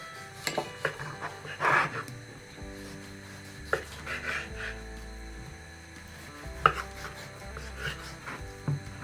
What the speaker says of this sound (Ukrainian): І зараз ми будемо різати наші реберця. На такі порційні кусочки невеликі.